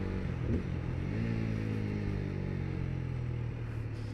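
A TVS Apache RTR 200 motorcycle being ridden, its engine droning steadily and close with a low rumbling hum that rises slightly in pitch, no talk over it.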